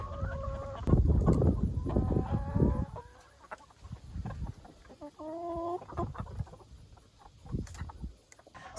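A flock of laying hens from a closing farm clucks and squawks in a busy, overlapping chorus, loud and close, with bursts of calls rising and falling and no voices over them.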